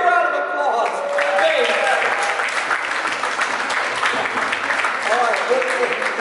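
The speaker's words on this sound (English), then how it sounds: "Give me a round of applause." Audience applause at a presentation event, a dense steady clapping that fills the whole stretch at even loudness, with a voice faintly speaking over it.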